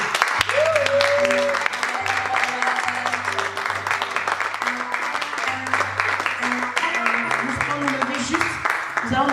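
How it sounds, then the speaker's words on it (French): Church congregation at an evangelical service in Bordeaux applauding the word of God, steady sustained clapping from a crowd throughout, with a voice and musical tones over it. "Si vous êtes content, acclamez la parole de Dieu."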